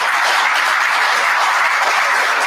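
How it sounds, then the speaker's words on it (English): Applause for a speaker at a Governor Hochul press conference, a loud, even wash of many hands clapping that sustains without pause for the full stretch, with no voices heard. "Let's give her a round of applause."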